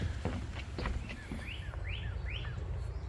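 Several short rising bird chirps repeat in quick succession, fairly close, over soft low rustling and faint background noise, on a woodland trail in Garrett County, Maryland.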